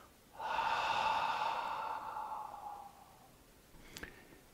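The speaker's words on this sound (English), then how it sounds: "exhale through the mouth" A long, breathy exhale through the mouth during a relaxation breathing exercise carries a soft voiced sigh and fades over about three seconds, followed by a small click.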